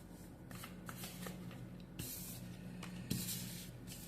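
Tarot cards are shuffled and drawn during a reading, giving repeated papery riffles and slides up close with a sharper snap near the end, with no talking.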